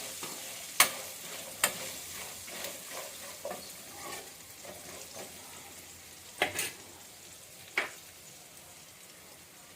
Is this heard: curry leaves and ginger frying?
yes